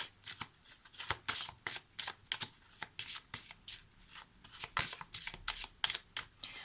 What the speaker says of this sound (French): On va prendre une ou deux petites cartes complémentaires ici.